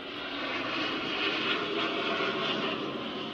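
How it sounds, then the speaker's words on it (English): A fighter jet roars steadily overhead, a broad loud rushing engine noise that swells slightly and holds throughout. "Here's a fighter jet."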